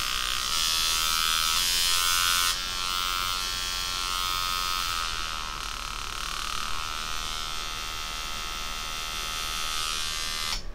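An Electric Shark Silkworm tattoo machine buzzes continuously for about eleven seconds, its high whine shifting in pitch as the speed changes, close and loud with no talk.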